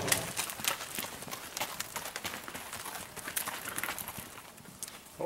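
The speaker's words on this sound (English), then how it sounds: "Horses." Horses walking at Rocky Mountain House in Treaty 6 territory, Alberta, their hooves clip-clopping in a steady, fairly close rhythm amid outdoor ambience.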